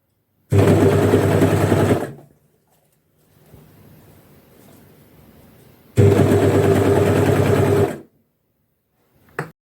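An overlocker sews elastic onto a skirt waistband in two loud close bursts of fast whirring stitching of about one and a half seconds each, separated by quiet handling of the fabric.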